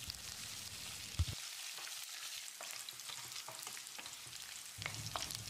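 Cashews, curry leaves, chopped ginger and cumin seeds frying in hot oil in a pan for cabbage upma, a steady close sizzle with a few stirring scrapes and clacks, no talk.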